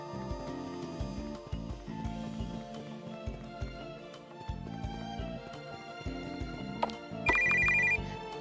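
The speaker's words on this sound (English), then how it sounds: "Oh, that's my phone. What kind of old-timey ringtone is that?" An old-fashioned telephone ringtone from the video game Silver Thread Deux sounds over the game's music, with a bright, rapid trill of rings near the end.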